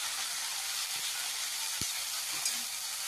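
Dheki greens frying in a pan, a steady soft hiss and sizzle throughout with a faint clack near the middle, quiet and without speech.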